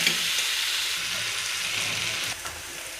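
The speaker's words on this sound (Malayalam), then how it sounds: "തക്കാളി ഇട്ട് കൊടുക്കാം. നല്ലോണം വഴറ്റണേ." Tomato and onion being sautéed in a pan for a prawn roast give off a steady, close frying sizzle with faint stirring scrapes, heard alone with no voices.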